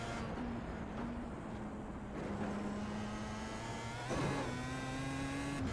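A racing car's engine drones steadily in a video game, a quiet, even hum with a brief shift in pitch partway through, heard alone without talk.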